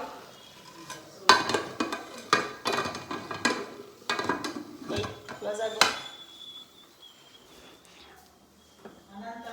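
Metal clanks and knocks as a pressure cooker lid is fitted and shut over simmering mutton sambar in a home kitchen, with several sharp bangs early on, then a quieter stretch and a faint tone.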